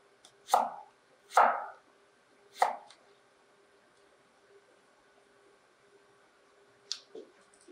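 Carrots julienned with a knife on a board, four crisp close chops in an uneven rhythm during the first three seconds, then quiet until one lighter tap near the end.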